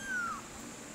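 An adopted house cat lets out one short, faint, falling meow over quiet indoor background noise.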